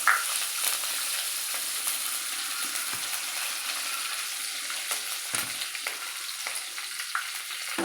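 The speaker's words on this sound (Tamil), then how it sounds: "இப்போ கடுகு நல்லா பொரியுது." Mustard seeds and curry leaves fry in hot oil for aval upma, giving a steady, close crackling sizzle with dense popping that runs unbroken throughout, no voices.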